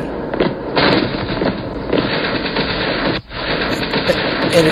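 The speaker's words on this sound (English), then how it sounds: "They're going to hit back with some artillery." Artillery fire in a WW2 strategy war game set in the Spanish Civil War campaign: dense, continuous crackling booms and rumbling blasts, loud and close, with a brief dip before the barrage resumes.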